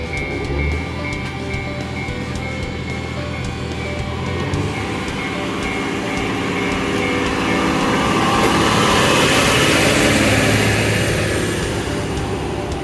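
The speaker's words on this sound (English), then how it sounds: "The local train departs." A local train pulls away from a remote mountain station, a steady loud rumble of engine and wheels that swells into a broad rushing noise as it moves off.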